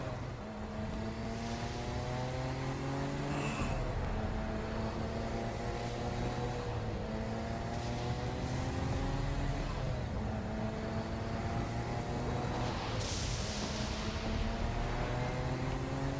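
A car engine drones steadily while driving through hell in Saints Row: Gat out of Hell, its pitch climbing and resetting repeatedly as gears shift, loud and continuous with a couple of brief sharp noises over it.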